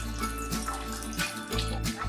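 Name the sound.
pouring tamarind water into mashed tomatoes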